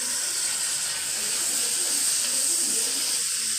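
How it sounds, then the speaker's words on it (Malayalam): Tomatoes and green chillies go into a pan of frying onions, giving a steady, loud sizzling hiss that holds evenly throughout with no talking. "അടുത്ത സവാള മൂത്ത് വഴണ്ട് കഴിയുമ്പോൾ നമ്മൾ തക്കാളിയും പച്ചമുളകും കൂടെ ചേർക്കുകയാണ്."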